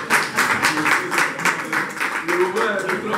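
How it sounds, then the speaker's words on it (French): An audience at a Congolese community meeting in Athens claps in a steady, fairly close burst of applause that runs throughout without a break. "Vous pouvez applaudir quand même."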